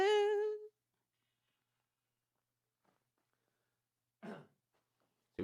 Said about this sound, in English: we don't want that cough in there